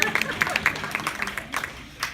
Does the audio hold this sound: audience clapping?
yes